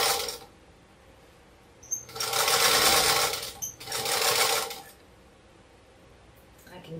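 A sewing machine stitches two quilt pieces together along nested seams, running in two loud bursts of a few seconds each with a brief pause between, over quiet room background.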